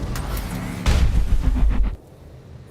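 Weapon fire slams into the player's mech in RogueTech as a loud, heavy boom that rumbles for about a second before cutting off into quieter background.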